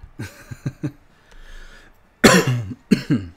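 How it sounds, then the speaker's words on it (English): A run of harsh coughs from one person, close and loud: a few quick hacks, a short pause, then two heavier bursts. "I am coughing up a storm"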